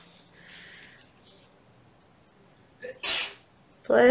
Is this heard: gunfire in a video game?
no